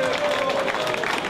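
Brief burst of audience clapping at a live stage show, steady and fairly close, with a voice sounding over it.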